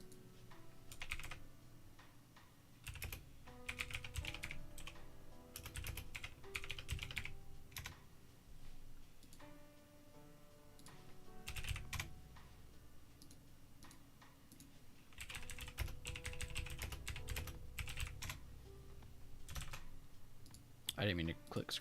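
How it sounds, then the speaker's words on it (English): Keyboard typing during live stock-market charting: a rapid, fairly close run of light clicks in uneven bursts that continues through the whole stretch with brief pauses, and a voice seems to speak in places. "Typing SPY and triple Q key levels right now."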